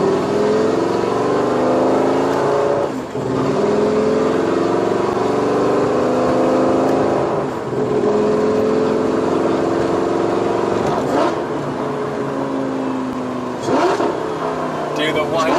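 A Lamborghini Gallardo with an aftermarket exhaust revs hard and downshifts, its loud, close engine note rising and falling in continuous sweeps with brief throttle blips between gears.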